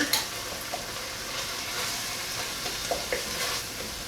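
Finely grated garlic and ginger sauté in a pot for chicken and couscous soup, a steady hiss of sizzling with light spoon scrapes and taps as they are stirred, close and without speech.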